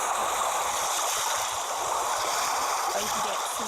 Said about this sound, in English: So I usually like ocean waves.